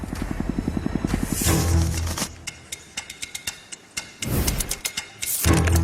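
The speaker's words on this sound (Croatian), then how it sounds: "U 60. godinama dizajniran je novi helikopter s 2 rotora." Chinook twin-rotor military helicopter in flight, a rapid thudding rotor beat at first, then whooshing passes and clattering bursts of engine and rotor noise, fairly loud and without talking.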